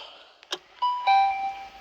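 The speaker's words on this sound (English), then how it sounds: "The bell went." An electronic bell chimes during a municipal delegation meeting, a pair of clear sustained tones ringing out after a brief knock-like thump, fairly close and alone without talk.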